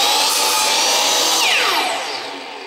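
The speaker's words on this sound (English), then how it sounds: "I got my miter saw here. First thing I'm going to do is cut off this little diagonal end here," A miter saw cuts through a wooden board, a loud, steady high-pitched whine that holds for over a second and then winds down as the blade slows.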